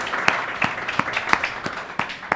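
An audience at an entrepreneurship pitch event applauds, heard as a modest, uneven patter with a few louder individual claps standing out in a loose rhythm, with no talking over it.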